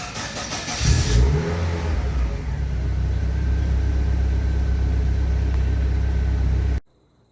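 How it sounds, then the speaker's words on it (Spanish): A Chevrolet Aveo engine catches after a brief crank, then settles into a strong, steady rumbling run with a slight rev before cutting off abruptly at the end. "Y con eso prendemos nuestro vehículo."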